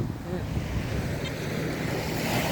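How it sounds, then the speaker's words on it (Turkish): Sea waves break on a beach in a steady, rumbling wash with a soft hiss, mixed with gusty wind buffeting the microphone, close and continuous. "Dalga dedik dalgayı çağırdık. Dalga olmaya başladı."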